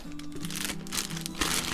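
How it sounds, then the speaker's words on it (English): A plastic bag crinkles close by while new Alden naval boots in shell cordovan are unpacked from their box, giving a steady rustling texture with a sharper crackle near the end and no talk over it. "plastic bag."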